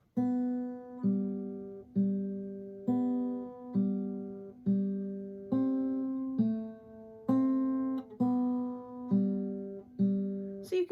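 A plucked guitar plays a simple, steady melody of evenly spaced single notes, each ringing and fading before the next, clear and close.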